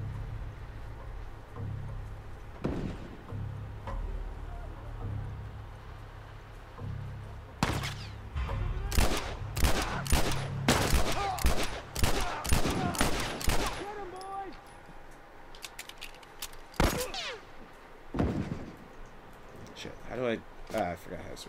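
Enemy gunfire in The Last of Us crackles in dense bursts of sharp shots from multiple shooters, loud and close, trailing off into scattered single reports, with someone talking throughout.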